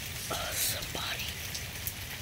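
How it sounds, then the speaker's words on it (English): Heavy rain pours down outdoors as a dense, constant hiss, with a few brief voice-like sounds over the downpour. "And it's pouring, raining outside."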